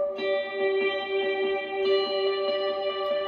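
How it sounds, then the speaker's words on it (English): Electric guitar notes through a Boss reverb pedal and delay, ringing out with a spacious reverb wash and repeating echoes, smooth and continuous. "Adding in the boss reverb."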